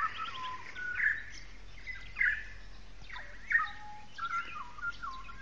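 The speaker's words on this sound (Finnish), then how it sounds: "Linnut on aina hyvin mielenkiintoisia yöllä ja aikaisin aamulla." Several birds sing outdoors under a bright full moon at night or early morning, giving a few separate short chirps and whistled phrases against a quiet background.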